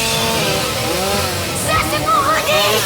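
A chainsaw buzzes in a scene from the 2002 horror film Halloween Resurrection, a steady droning whine with pitch wavering near the end, heard under people talking over the film.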